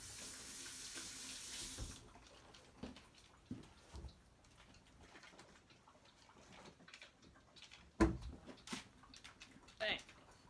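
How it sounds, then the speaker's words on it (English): Water runs from a kitchen tap as hands are rinsed while making maple shortbread, a soft, steady splashing stream with a few brief knocks and clatters near the end. "Rinse my hands off real quick."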